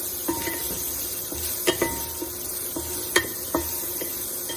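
Onion and garlic sizzle in a hot pan while a utensil stirs them, steady frying hiss broken by sharp scraping and clinking strokes at irregular intervals.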